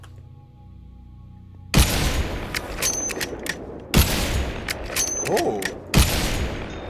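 Guns fire in modded Minecraft with hollow-point rounds. Sharp, loud shots come roughly every two seconds, each followed by dense crackling and rumble. A voice briefly exclaims between shots.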